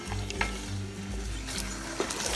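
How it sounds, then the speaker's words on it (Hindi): Ginger garlic paste frying for beef haleem, a steady close sizzle broken by regular scraping stirs of a spoon against the pan. "गार्लिक का पेस्ट डाल दिया है, मैं इसे अच्छी तरह भूनूंगी"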